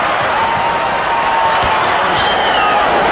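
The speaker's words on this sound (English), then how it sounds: "The crowd here would be favoring the East, and they're letting their feelings known" A basketball arena crowd at the 1969 NBA All-Star Game cheers, a loud, steady roar of many voices with whoops rising above it, continuous throughout.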